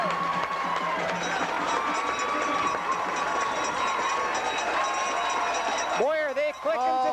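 Football stadium crowd at a 1988 Western Final game roaring steadily after a touchdown, a sustained wash of cheering under a commentator's voice, ending with a brief whistle-like tone.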